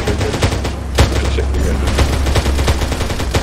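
Infantry gunfire in Arma 3, a dense, continuous battle of overlapping rifle and machine-gun shots near and far, with sharp cracks and a louder bang around the one-second mark and faint voices underneath.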